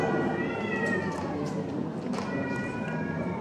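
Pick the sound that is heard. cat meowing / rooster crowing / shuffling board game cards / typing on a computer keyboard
cat meowing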